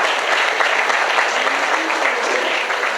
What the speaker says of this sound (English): A more round of applause.